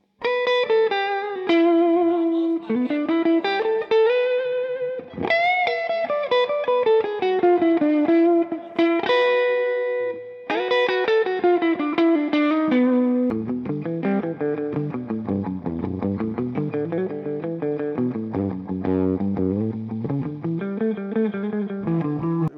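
Electric guitar plays sustained, distorted melodic lines through a 1974 Fender Deluxe Reverb silverface amp on the rhythm channel, with a wash of reverb and a denser chordal passage in the second half.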